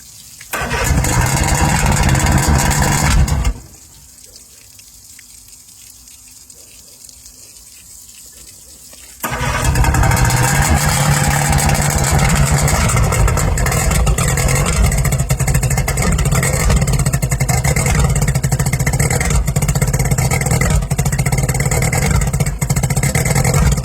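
An old center console boat's outboard motor runs loud and rough, cuts out to a quiet lull for several seconds, then roars back with a continuous, uneven, sputtering drone that holds through to the end.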